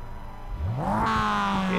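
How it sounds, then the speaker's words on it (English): Mazda race car engine at Virginia International Raceway revving up from a low rumble to a rising, sustained high-pitched whine, loud and close. "And hear the engine start to rev."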